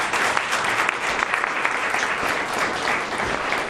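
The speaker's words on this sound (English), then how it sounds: "Can we give them a round of applause?" An audience at a behavioral health show applauds, a dense, steady round of clapping filling the room at an even level, with a faint voice beneath.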